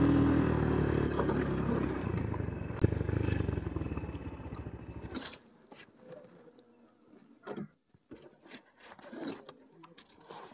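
A motorcycle idles and rumbles loudly on arrival at a hillside parking area near a hiking trail at Tolipeer, Azad Kashmir, then cuts off about halfway through, leaving quiet footsteps and small handling noises.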